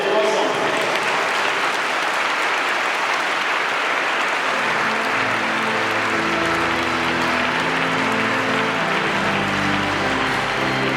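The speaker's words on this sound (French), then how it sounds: "Toute la communauté chrétienne va applaudir et encourager ces enfants" A church congregation applauding children at a profession of faith service, sustained loud clapping, with singing or music rising beneath it partway through.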